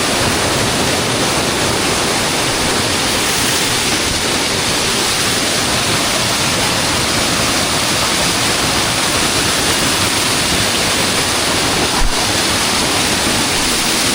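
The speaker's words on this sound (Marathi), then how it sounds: "हा थोडक्यात धबधबा आहे आणि हा फोर्सला पाणी" A small waterfall pours forceful water downward in a rainy-season setting, a loud, steady, broadband roar close by that continues unbroken throughout, with one brief knock near the end.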